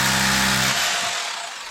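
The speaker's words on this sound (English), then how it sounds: "I'm going to go ahead and just mark the wall with the hammer drill" A hammer drill marks a wall while building storage shelves: a loud, close burst of whirring, buzzing motor and bit noise that winds down and fades over about a second, with no talking.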